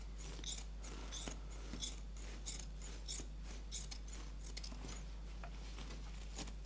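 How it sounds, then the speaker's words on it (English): Scissors snip repeatedly through fabric in a steady rhythm, each cut a crisp rasping slice, close and quiet over a low electrical hum. "making sure my scissors are staying straight"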